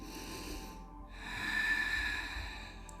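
A deep, full inhaled breath taken during a yoga back exercise, a soft airy intake swelling through the middle of the moment, fairly close and alone with no talk.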